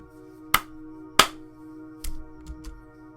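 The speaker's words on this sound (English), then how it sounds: "My hands make a dull thunk as I clap them together." Two sharp hand claps ring out close and a little apart, followed by softer thumps, in a Clannad visual novel scene over a quiet music bed.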